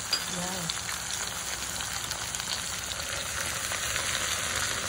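Poha and cashews for sweet corn poha fry in a pan with a dense, steady sizzle throughout, close and loud, with faint stirring scrapes and a brief voice near the start.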